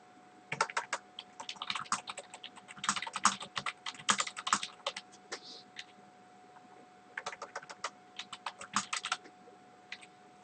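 Typing on a computer keyboard, close and steady, with bursts of rapid key clicks separated by short pauses, no voices over it.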